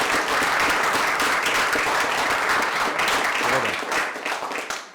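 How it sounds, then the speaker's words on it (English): Wedding guests applaud together after a toast to the bride and groom, a dense, steady wash of clapping filling the room for about five seconds before thinning slightly at the end. "I think that deserves an applause."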